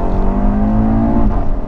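A 460hp car engine, either an Audi RS3 or a BMW M140i, revving at full throttle in second gear, loud and close, its droning tone climbing steadily before a quick gearshift dip.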